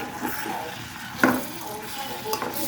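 Potatoes with green chili and turmeric frying in a pan, a soft continuous sizzle with a couple of brief clinks of a utensil against the pan.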